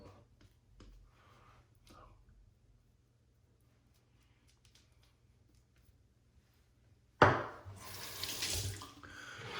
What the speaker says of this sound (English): Wash off the hands a wee bit.